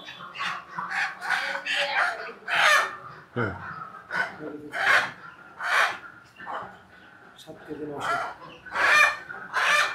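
Farm chickens on a rooftop poultry farm, gathered for weighing, keep up a loud, steady run of clucks and squawks, one call after another with only brief gaps.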